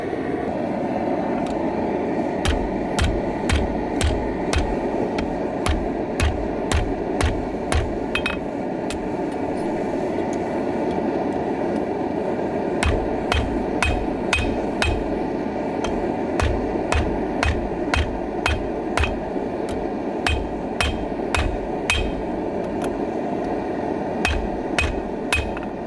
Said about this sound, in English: then we're gonna heat it up and then smack it on the anvil